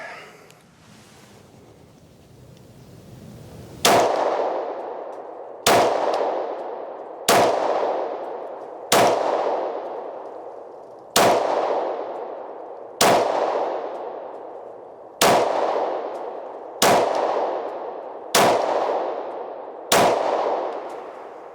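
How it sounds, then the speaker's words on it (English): A Sig P226 pistol fired outdoors, about ten sharp loud shots spaced roughly every one to two seconds, each leaving a short fading echo, after a quiet stretch of wind at the start. "Let's shoot another magazine and verify."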